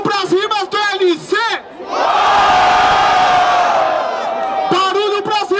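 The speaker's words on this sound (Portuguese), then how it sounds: "Barulho pras rimas do LC!" A crowd at the Batalha da Aldeia hip-hop rap battle roars with loud cheers and shouts for a couple of seconds. A host talks energetically before and after the outburst.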